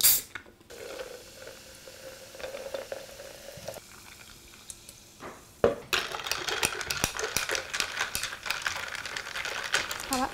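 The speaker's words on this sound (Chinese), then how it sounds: "最后倒满苏打水就好" Soda water poured into a glass of homemade infused liquor over ice, with quiet clinks at first, then a steady close fizzing and crackling of bubbles that fills the last half.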